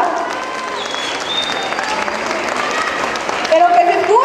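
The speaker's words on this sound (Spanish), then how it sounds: "Un fuerte aplauso para ellos, por favor" Audience applause at a live youth cultural festival show at a community cultural centre, welcoming a breakdance crew onto the stage: dense, steady clapping from a crowd that holds for several seconds, with whistles and cheering rising near the end.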